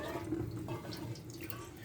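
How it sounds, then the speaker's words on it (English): Tap water runs steadily into a pot while cooked macaroni is rinsed in the kitchen sink, a continuous close splashing with no talking. "now I'm rinsing the pasta"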